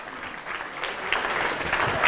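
Audience applause at the closing of a software testing (QA) challenge event, a steady wash of many hands clapping that rises slightly and holds for about two seconds.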